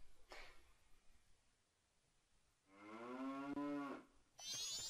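Cows mooing in the video game The Legend of Zelda: Majora's Mask, with a faint low call near the start, then a loud drawn-out moo and a second moo beginning at the end, set against quiet background.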